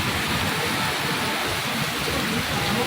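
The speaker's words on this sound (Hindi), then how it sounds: "इधर देखो बारिश है बहुत तेज" Heavy rain pouring down outdoors in Greater Noida, a dense, steady hiss of water striking surfaces, close and unbroken throughout.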